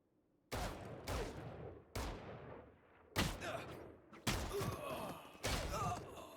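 Sharp gunshots from a shooter video game, about six separate loud cracks at irregular spacing, each decaying with a short echoing tail.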